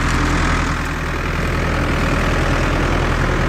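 The diesel engine of a New Holland TR86 combine with a warm block runs at a steady, loud, continuous rumble, close by and without talk.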